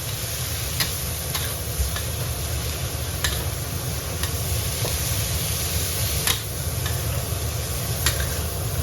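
Green beans stir-frying over high heat, with a steady loud sizzle and occasional sharp ticks of a spatula against the wok, with no talking.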